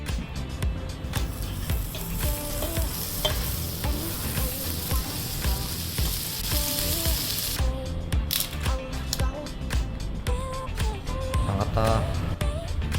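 Pork belly sizzles and spatters on a hot grill in a Korean restaurant, a constant crackling hiss with occasional pops, while people murmur in the background.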